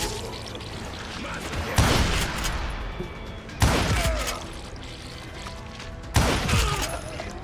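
Gunfire in the Western shooter Call of Juarez Gunslinger: three loud, heavy shots spaced a couple of seconds apart, each cracking sharply and then trailing into a long rumbling echo, over a steady background bed.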